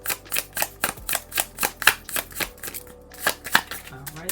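A deck of cards is shuffled close up in a rapid, steady run of crisp riffling flicks that pauses briefly near the end before resuming.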